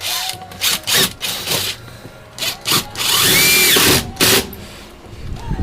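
Power drill driving 3-inch drywall screws into a metal mounting surface: several short whirring bursts with pauses, then a longer sustained run near the end, close and loud.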